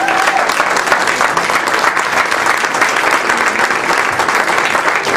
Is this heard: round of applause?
yes